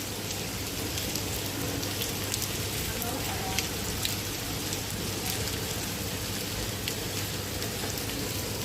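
Steady rain falling in Cyprus, a dense continuous patter close by that keeps up without letup, with a low hum underneath.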